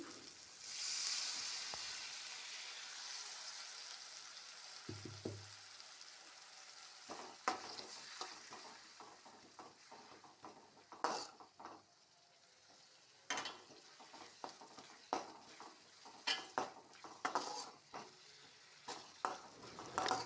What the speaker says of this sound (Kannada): ಎಲ್ಲವನ್ನು ಹಾಕಿದ ನಂತರ ಚೆನ್ನಾಗಿ ಫ್ರೈ ಮಾಡಿರಿ